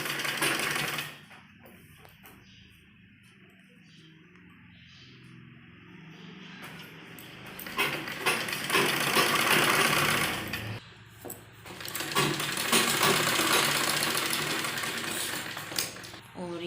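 A sewing machine stitches the bodice to the skirt of a net baby frock, running in two long steady whirring bursts separated by quiet handling and a short pause, with no talk over the motor.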